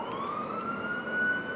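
An ambulance siren wails on a busy street among a crowd of pedestrians, a steady rising tone sounding fairly close and continuous over traffic noise.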